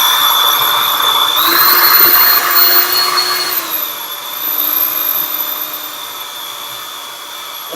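A handheld electric drill whirs steadily as it stirs sugar water for shaved ice syrup, with a loud, continuous motor drone that rises in pitch for a couple of seconds, then settles back to an even, slightly quieter hum.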